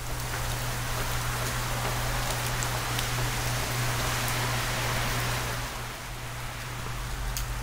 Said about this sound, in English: So the rain has arrived, a little bit of rain, a little bit of thunder, just normal Florida rain.